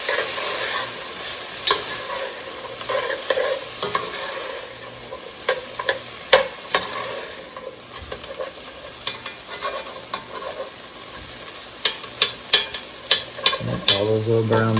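A spoon stirs kale soup in a pot just after garlic goes in, with a soft sizzle underneath and sharp scraping clicks against the pot bottom that grow quicker and louder toward the end.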